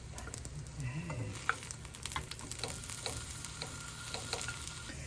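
Small pieces of fresh pear frying and crisping in a pan, a steady sizzle with scattered crackles and pops running throughout, close and moderately loud with no voices.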